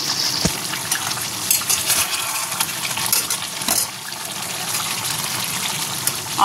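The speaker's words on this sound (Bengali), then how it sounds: "মাংসটা কষছি, এখানে জল দিয়ে নিই।" Water goes into a pan of chicken being fried down for a thin curry, bringing a loud continuous hiss and bubbling sizzle with a few clinks, heard close up without talk.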